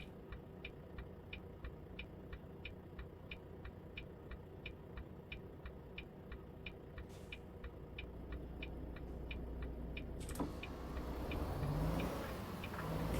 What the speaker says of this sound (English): Some sweet Swedish Volvo engineering engine sounds as we pull into our destination here.